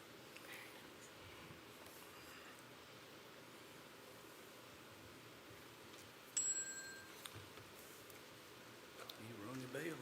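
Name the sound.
bell rung at a meeting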